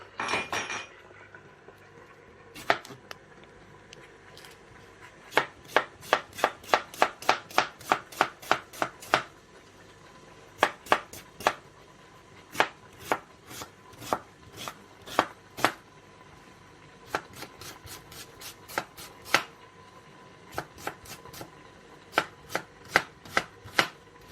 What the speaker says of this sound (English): And then let's start the chopping.